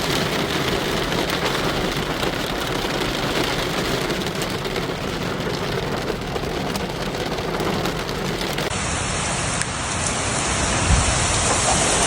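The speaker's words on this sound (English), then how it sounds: "Very rainy." Heavy rain pounds a parked car in Montenegro, a dense, steady roar of drops drumming on the roof and glass that holds loud and unbroken throughout, with no voices.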